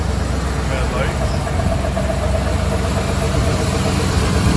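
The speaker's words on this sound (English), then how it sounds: "Engine runs good and smooth." A 1979 Dodge Lil Red Express pickup truck without air conditioning idles steadily, its deep, even engine rumble continuous and close throughout.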